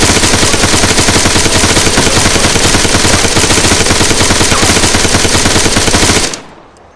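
Loud, relentless machine-gun fire from the video game ArmA 3 rattles in a continuous rapid stream, then cuts off abruptly near the end, leaving a brief fading tail.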